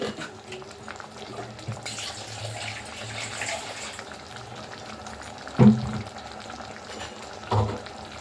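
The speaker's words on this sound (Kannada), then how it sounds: "ಒಂದು ಸ್ವಲ್ಪ ನೀರು ನಿಮ್ಗೆ ಎಷ್ಟು ಕನ್ಸಿಸ್ಟೆನ್ಸಿ ಬೇಕು ಅಷ್ಟು ನೀರನ್ನು ಹಾಕ್ಕೊಂಡು" Water is poured into a cooking pot of vegetables for kurma, a soft steady pour with a couple of brief louder splashes, close and fairly quiet.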